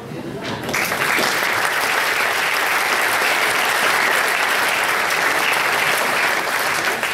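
A concert audience at a German music club's 2022 performance bursts into loud, sustained applause that starts abruptly and keeps an even, dense roar of clapping throughout, with voices mixed in.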